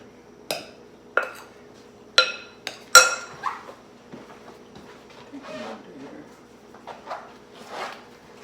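Twice-baked potato filling being mixed in a bowl, several sharp clinks and knocks of a utensil against the bowl, spaced irregularly and close, with someone speaking intermittently over a low steady hum.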